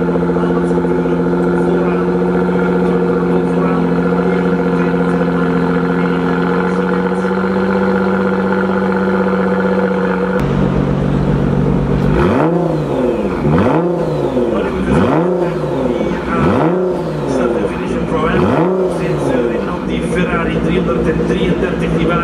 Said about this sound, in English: there were a few revs from the 720 horsepower V6 2-turbo Nissan